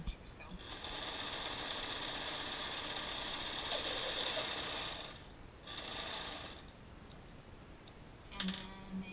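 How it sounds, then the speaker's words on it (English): A serger overlocks the neckband of a knit top, its motor buzzing steadily in a long run, pausing briefly, then running again before a final quiet stretch with a light clunk. "I'm going to continue overlapping my serging for an inch or so."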